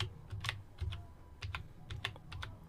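Quick, crisp keystrokes tap on a computer keyboard while entering a spreadsheet formula in Excel, coming in irregular bursts, quiet and close with no talking.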